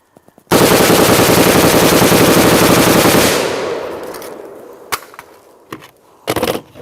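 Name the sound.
M16 rifle firing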